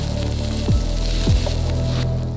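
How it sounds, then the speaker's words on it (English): Butter melting in a cast iron skillet set on a stand over a campfire, a steady sizzle and crackle heard close up, with a low rumbling hum beneath it. "Add a generous amount of butter and spread it all over the surface of the skillet"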